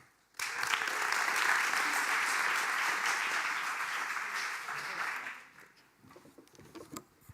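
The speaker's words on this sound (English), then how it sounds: "So please, a warm applause for Rob Huisman." An audience applauds at an evening event on Dutch graphic culture, welcoming Rob Huisman to speak; a dense, loud wash of clapping runs for about five seconds, then thins into scattered claps and faint murmurs.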